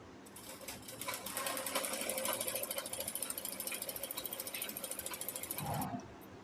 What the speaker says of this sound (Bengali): এখন আমি ফাড়াটা সেলাই করব